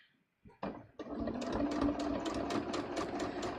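A sewing machine stitches a dress bodice, starting after a brief quiet moment and then running in a steady, close, rapid rhythmic whir to the end.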